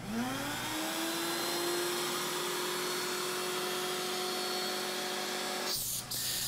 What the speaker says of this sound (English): Kind of trying to use my air gun to blow the dust out of the way so that you can see the cut